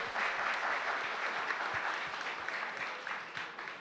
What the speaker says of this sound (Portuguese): Vamos aplaudir, vamos torcer.